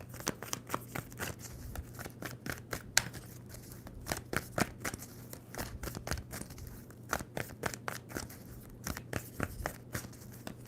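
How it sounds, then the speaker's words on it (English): Rapid papery riffling of a tarot deck being shuffled, bursts of crisp flicks in quick repeated runs, close up, with a low steady hum underneath. "2 more shuffles for Taurus."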